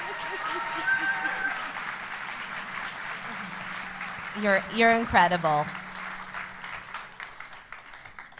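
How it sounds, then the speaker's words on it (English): Applause from an evening audience honoring Goldie Hawn at Crystal Bridges rises from a spread of clapping, with a voice speaking over it and swells of louder, closer claps in the middle. "Can we please give this beautiful woman a round of applause?"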